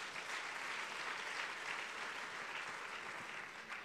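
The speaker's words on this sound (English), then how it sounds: "Please give them a round of applause." A church congregation claps in steady, sustained applause that fills the room evenly from start to finish, with no voices standing out.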